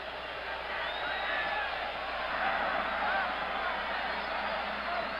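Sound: football stadium crowd noise

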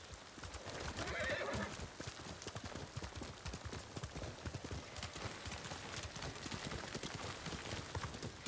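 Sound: horse hooves and whinny in video game Ghost of Tsushima

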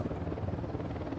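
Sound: enemy helicopter approaching in video game Ghost Recon Wildlands

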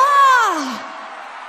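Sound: forró show audience screaming and cheering

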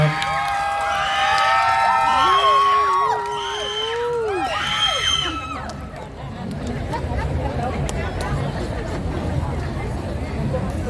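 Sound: crowd clapping and cheering for school marching band

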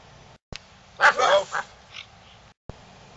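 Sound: children imitating dogs saying woof

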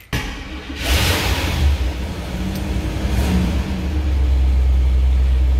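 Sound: 7.7 liter Cadillac V8 engine starting

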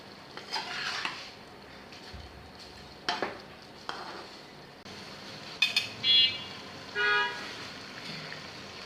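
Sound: stirring spices into food in a pot

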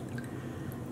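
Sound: pouring diluted food coloring dye

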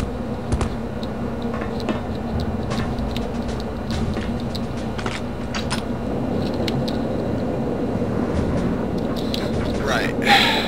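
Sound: tram moving in Return to Castle Wolfenstein video game

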